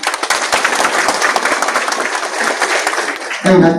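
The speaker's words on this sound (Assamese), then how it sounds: "আপোনাৰ নিজৰ কাৰণে এটা হাত তালি দিব কাৰণে অনুৰোধ কৰিছো।" A crowd claps at a BJP political rally in Kokrajhar, Assam, with dense, loud applause filling nearly four seconds before it gives way to other sound at the very end.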